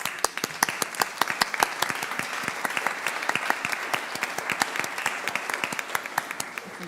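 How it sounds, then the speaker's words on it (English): An Oakland City Council meeting audience claps in steady, moderately loud applause with dense, sharp individual claps throughout, continuing evenly without talk. "I think that deserves a round of applause."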